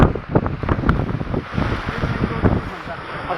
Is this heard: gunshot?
no